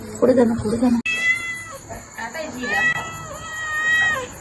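A cat meows loudly and repeatedly, drawn-out plaintive cries up close, after a brief voice at the start.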